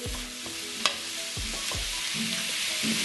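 Minced meat goes into softened onions in a pan for lasagne, frying with a continuous sizzle while a utensil knocks and scrapes in several distinct strokes, close and loud.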